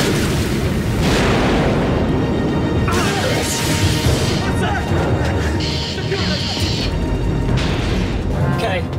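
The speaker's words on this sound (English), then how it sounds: "Explosion was on the other craft, sir." Loud explosion and rumbling blasts aboard a military submarine in a thriller film, with crashing debris and alarm-like tones under continuous background noise; voices are heard amid the chaos.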